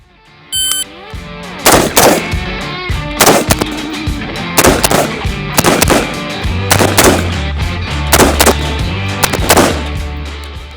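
AR-15 rifle and shotgun fired at eight targets during a group shooting drill, loud sharp gunshots in irregular bursts and single blasts, some in quick succession, close by and echoing outdoors.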